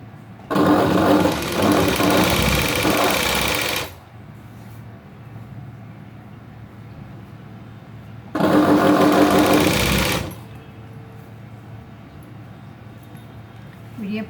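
Sewing machine stitching a V-neck blouse, two loud bursts of rapid whirring stitching, the first about three seconds and the second about two, separated by quieter pauses in which someone talks.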